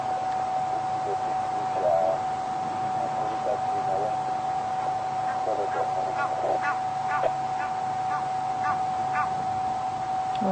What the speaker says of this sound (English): Well, the goose has suddenly picked up the sound, the scent of the lion.